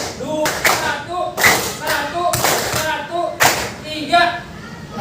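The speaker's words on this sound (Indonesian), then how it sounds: "Oke, tepuk tangan lagi" A class of students claps hands together in rhythm, sharp unison claps in a repeating pattern, with a teacher's voice between them.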